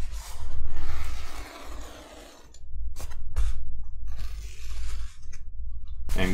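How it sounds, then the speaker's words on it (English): A knife slices through a thin foam backing piece for a DIY FPV backpack, making close, raspy scraping strokes in uneven bursts with short pauses between cuts. "for this thin foam backing piece, we can just cut that with a knife"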